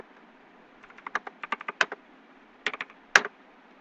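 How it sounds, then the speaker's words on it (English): Numbers typed on a computer keyboard, heard as quiet, close key taps in two short bursts, about a dozen quick strokes followed by a few more after a pause. "here I'll type any fictitious numbers"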